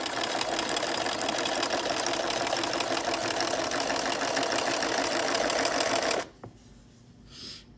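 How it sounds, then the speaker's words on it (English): A sewing machine runs a second line of stitches through trampoline fabric for a patio chair seat, a loud, steady mechanical whir with rapid needle rhythm for about six seconds before stopping abruptly, leaving faint room noise. "So I've already done one line of stitches here, and I'm doing a second just because I want it to be super strong."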